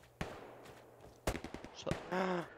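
Gunfire aimed at a player in the shooter game Hell Let Loose: a few sharp, loud shots spaced apart, then a short burst of rapid fire near the end.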